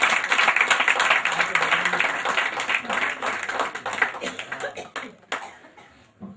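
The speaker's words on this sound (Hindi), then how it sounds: "लेकिन मैं चाहूँगा इकबाल भाई के लिए भरपूर तालियां बजाएं।" An audience at a poetry gathering in Karachi breaks into hearty applause, thick clapping that gradually thins and tapers into scattered claps near the end.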